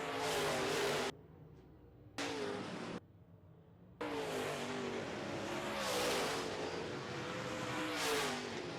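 Modified race cars roar around a racetrack in a feature race, engines revving in continuous waves as cars pass close by, with the sound briefly cutting out twice.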